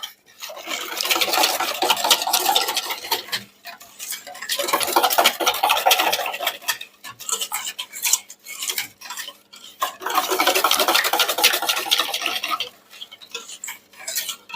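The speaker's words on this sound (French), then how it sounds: "Et on remue à nouveau." A utensil stirs apricot clafoutis batter in a bowl with scraping, clinking strokes against the sides, close and steady in several long bursts separated by short pauses, no talking.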